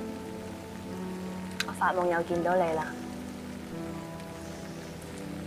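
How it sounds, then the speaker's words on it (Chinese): Heavy rain pours outside in a steady, soft hiss beneath a brief line of spoken dialogue. "你睇下而家落幾大雨"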